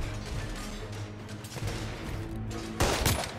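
Rifle fire in The Order: 1886, a loud crack near the end rising over a dense bed of game noise and music.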